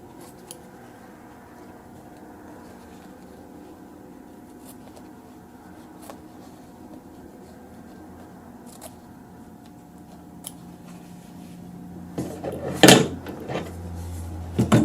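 Scissors snip through fabric while quilting a block, quiet faint cuts for most of the stretch, then a louder cluster of close snips and handling near the end, with no talking.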